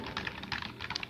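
Quick, light keystrokes on a computer keyboard tap out a short burst of typing close by, with no talking.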